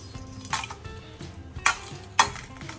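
Whole Kashmiri red chilies hit hot ghee in a pan over low to medium heat, giving a soft steady sizzle with a few sharp clinks of a utensil against the pan.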